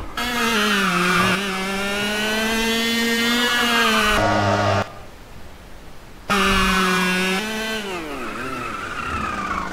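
A racing kart engine in the sim game Automobilista drones loudly and steadily, sagging and bogging down during a slide, cutting out briefly for about two seconds, then returning with wavering pitch.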